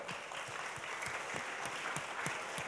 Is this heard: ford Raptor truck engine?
no